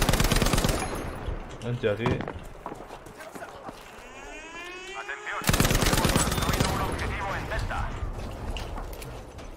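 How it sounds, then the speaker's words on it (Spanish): Bursts of rapid gunfire crackle in a Battlefield V Outpost match, with rattling automatic shots and footsteps, while a person speaks over the action. "de aquí ha salido un disparo"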